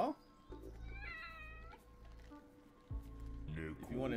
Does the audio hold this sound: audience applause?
no